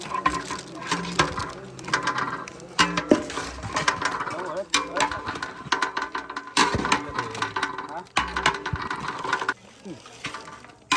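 Mutton is mixed with spices in a large pot in a Konkan village kitchen, with irregular scraping, clanking and stirring, and people talking nearby.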